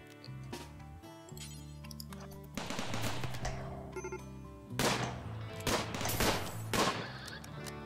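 Colonists firing guns in Rimworld, a series of loud sharp shots, some in quick bursts, over background game music with a brief voice.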